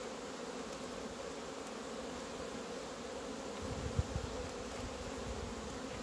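A honey bee colony drones steadily inside its hive on a frozen winter day at minus 16 degrees, a soft, continuous buzz with a few slightly louder moments toward the end.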